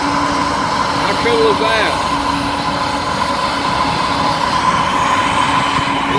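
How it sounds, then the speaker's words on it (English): A Norfolk Southern diesel freight locomotive, an unmanned remote DPU unit, rumbles steadily close by, with a brief squeal of wheels, while someone talks over the noise. "it's a Norfolk Southern engine, and it's actually running. You can hear the engine running."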